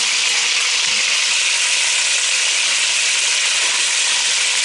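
Chicken pieces browning in a hot pan for a stewed chicken dish give a steady, loud, even sizzle and crackle of frying oil, close by and continuous with no talking.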